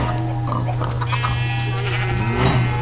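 Sheep bleat in Minecraft over a steady in-game tone and background music, with a German-speaking voice talking at the same time, the bleats fairly loud and repeated.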